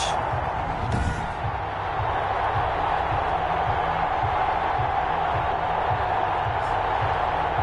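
A packed arena crowd roars steadily before a matchup between the Oklahoma City Nighthawks and the Memphis Steamers, with a dense, continuous wash of cheering and chatter that holds at a constant level throughout.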